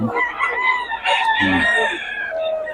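A rooster crows loudly amid a cluster of clucking chickens, with a busy, noisy market-like background throughout, at a chicken market in Bocaue.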